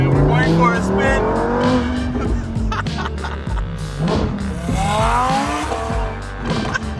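Lamborghini Huracan V10 heard from the passenger seat on a drive, engine revs climbing and falling through gear changes with tire noise, loud and close throughout.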